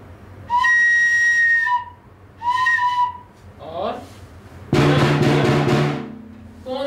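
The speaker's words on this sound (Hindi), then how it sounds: "बांसुरी की आवाज़" Breathy whistled bansuri flute notes in two short sustained phrases, followed by a brief sliding tone and a louder, noisier burst with a voice-like quality.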